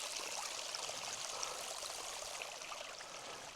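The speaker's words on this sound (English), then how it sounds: "Highland spring." A small Highland spring in Scotland, water trickling and flowing in a soft, steady, close babble with no talk.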